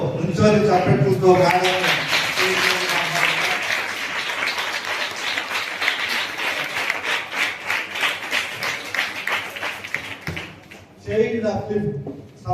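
A standing audience at a school event handing out books and uniforms to poor students breaks into sustained clapping that builds into dense applause, with voices heard briefly before and after.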